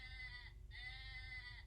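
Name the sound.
sheep bleating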